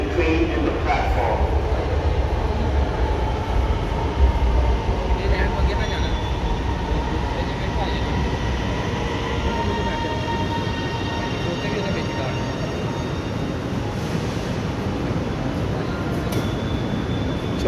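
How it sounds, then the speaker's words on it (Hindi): An Orange Line metro train pulls into the platform, a loud continuous rumble of rolling wheels with faint squealing tones, close and steady throughout, under a station announcement voice. "the train is arriving please mind the gap between the train and the platform"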